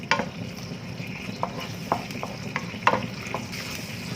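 Pizza sauce with oregano sizzles in a pan on the stove, a steady bubbling hiss with scattered soft taps and scrapes of stirring, close and moderately loud.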